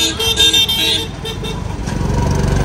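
A scooter carries a passenger along a road, its motor buzzing close and steady while traffic and horn toots sound around it, with no talking.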